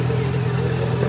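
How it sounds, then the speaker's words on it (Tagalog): A motorcycle engine runs at a steady idle close by, a continuous low rumble with an even throb and no revving across the brief moment. "Motor."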